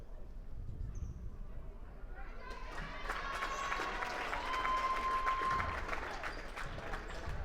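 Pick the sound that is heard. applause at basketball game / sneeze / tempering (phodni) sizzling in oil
applause at basketball game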